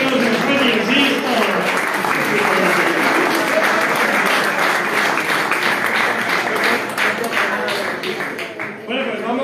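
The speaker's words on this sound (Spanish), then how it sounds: "pues un fuerte aplauso" Loud, sustained applause from the crowd at a homebrew beer competition awards ceremony, dense clapping filling nearly ten seconds before thinning out at the end.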